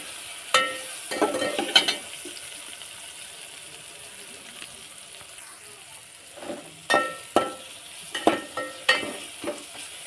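Chicken with turmeric is sautéed in a pan at home, with a faint sizzle underneath and scattered scraping and clattering stirs that bunch into quick bursts near the end.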